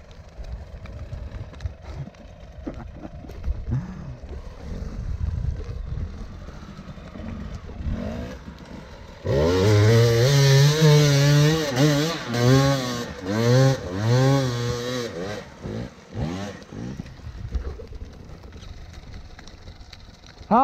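A 2019 KTM 300 Six Days TPI two-stroke motorcycle engine idles with a rattly putter, then is revved hard several times in quick blips, loud and close, before dropping back to idle.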